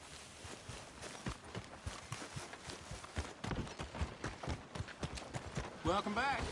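Horse hooves clip-clop steadily in Red Dead Redemption 2, a rhythmic walking gait close by, mixed with in-game voices talking over it and a louder burst near the end.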